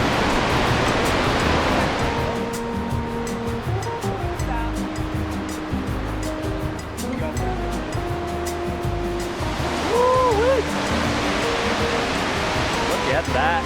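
A waterfall in Tumbler Ridge gives off a continuous, heavy rushing roar that stays close and loud for the whole stretch, with no clear talk on top.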